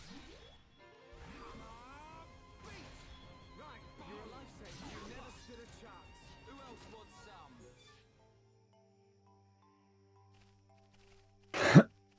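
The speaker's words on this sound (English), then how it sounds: "I was just clearing my throat." After a stretch of talk and a quiet pause, one short, sharp throat clearing bursts out loudly near the microphone.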